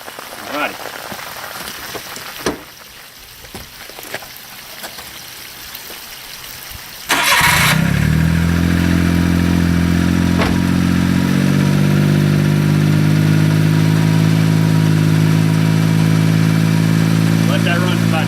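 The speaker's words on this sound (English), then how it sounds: "let's go ahead and crank the truck up and let it start doing its thing" A Suzuki truck's engine cranks and catches after several seconds of hissing water spray, then settles into a steady, close idle that runs on to the end.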